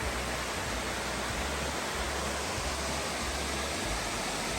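Waterfall on the Falls Trail at Ricketts Glen State Park, a dense, steady roar of falling water that fills the whole clip evenly and loudly, with no voices.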